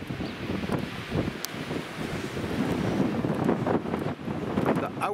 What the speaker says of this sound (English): Oh, the wind is taking things off my feet.